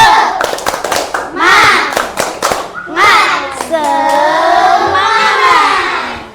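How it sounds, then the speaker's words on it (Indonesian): Schoolchildren in an Indonesian classroom perform a rhythmic spirit clap, with bursts of hand claps and thumps mixed with loud, lively children's voices and chanting, close and energetic throughout. "ayo kita lakukan kegiatan tepuk semangat terlebih dahulu"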